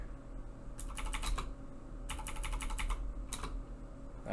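A computer keyboard is typed on in three quick bursts of clicking keys, close and clear over a steady background hum, with no talk.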